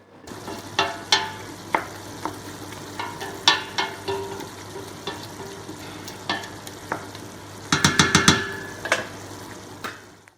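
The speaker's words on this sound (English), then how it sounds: "So my beef has been cooking now for about 42 minutes, and it's nice and tender." Spiced beef stew cooking in a pot, with repeated stirring scrapes and clinks of a utensil against the pot over a steady low simmer and sizzle, close by and moderately loud, busier toward the end.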